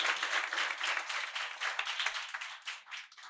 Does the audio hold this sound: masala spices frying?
no